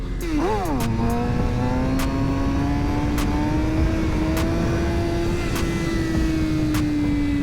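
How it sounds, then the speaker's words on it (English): A motorcycle revs hard for a quick wheelie, its engine pitch rising sharply then settling into a sustained loud drone as it pulls away, with no talk over it. "I'll give you guys a wheelie real quick"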